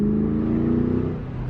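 A Ford Mustang GT/CS with Borla ATAK mufflers and a cold engine holds a loud, close, throaty rev with a strong steady tone. The engine note sags slightly near the end.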